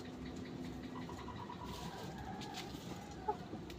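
Roosters and hens of a Filipino gamefowl flock cluck and call in a noisy outdoor yard, with scattered bird sounds over steady background noise and a brief sharp call near the end.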